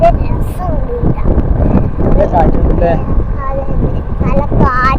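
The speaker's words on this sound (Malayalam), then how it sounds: "നല്ല കാറ്റുണ്ട്." Strong outdoor wind buffets the microphone with a constant, loud low rumble while a person talks over it almost throughout.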